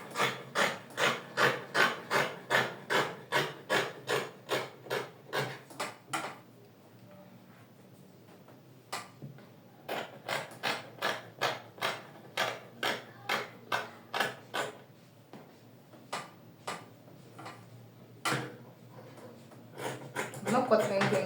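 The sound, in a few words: trimming excess fabric of a dress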